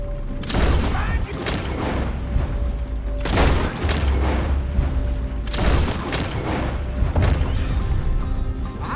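Gunfire in a Red Dead Redemption 2 shootout, a cluster of sharp bangs returning in bursts every couple of seconds over a constant loud game backdrop, with faint voices under the shots.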